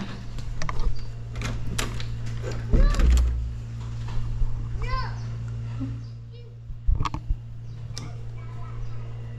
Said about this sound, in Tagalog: Sasarado ko pinto.